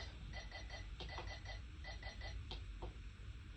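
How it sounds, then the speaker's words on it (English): A beeping timer goes off in repeated short bursts of electronic tones, a steady rhythm of beep groups with brief pauses, fairly clear over a low background hum. "And as the timer goes off"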